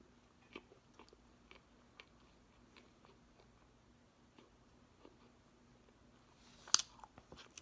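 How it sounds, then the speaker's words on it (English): Someone chewing Hawaiian pizza crust with the mouth closed, soft intermittent crunches spaced about a second apart, faint and close, with a louder crunchy bite near the end. "I'm currently closing my mouth when I chew."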